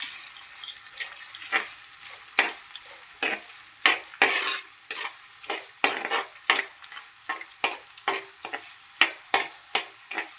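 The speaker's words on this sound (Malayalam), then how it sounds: "കുറച്ച് ഉപ്പ് കൂടി ചേർത്ത് കൊടുത്ത് നന്നായിട്ടൊന്ന് ഇളക്കിയെടുക്കണം." Onions with salt being stirred in a pan for Kerala-style chicken thoran: repeated sharp spatula scrapes and clinks in an uneven rhythm over a faint high sizzle, close and clear, no voices.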